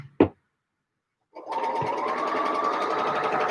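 Sewing machine stitching fabric for a Closet Case Patterns pouf, a brief clack and a pause followed by a steady, fast continuous whir of stitching, close and clear with no voices.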